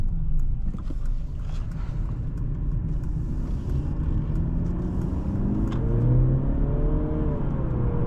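A 2025 Mercedes-Benz C 300 with a 9-speed automatic accelerates from inside the cabin, its engine note rising steadily under constant road and tire rumble, close and continuous, with no talk.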